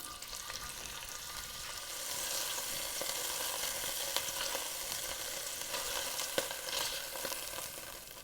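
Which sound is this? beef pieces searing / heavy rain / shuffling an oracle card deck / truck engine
beef pieces searing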